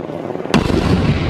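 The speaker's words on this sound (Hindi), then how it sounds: "स्टेडियम के ऊपर पहुंचते ही मेहुल हैंड ग्रेनेड फेंकने लगता है।" A cartoon hand grenade explodes above a stadium, a single sharp loud blast that cuts through a low rumble and leaves a rolling, crackling boom trailing after it.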